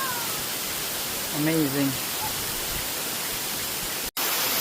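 Steady broadband rush of a powerful waterfall pouring into the sea at a beach, a continuous roar throughout with a short voice exclaiming partway through.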